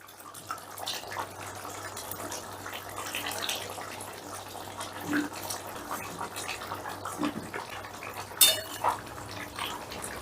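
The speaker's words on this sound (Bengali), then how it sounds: "এবারে একটু নাড়াচাড়া করে ঝোলের মধ্যে মাছগুলোকে একটু মিশিয়ে দিচ্ছি" A spoon clinks and scrapes against a curry pan as pieces of pangas fish and potatoes are stirred, with irregular metallic knocks and soft sloshing of gravy, moderately close.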